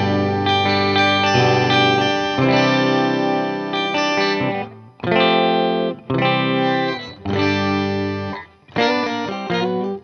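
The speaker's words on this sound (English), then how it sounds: "If you just put that on fairly high and put the low octave down, you can make it sound like a 12-string guitar" Electric guitar played through an octave pedal with the upper octave set high and the low octave down, giving a shimmering 12-string-like tone; strummed chords ring loud and near in several phrases separated by short gaps.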